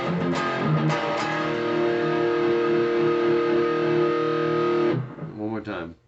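An overdriven electric guitar plays an 80s metal riff, a few quick picked notes then sustained ringing chords held loud and close before cutting off, followed by a brief bit of talk at the end.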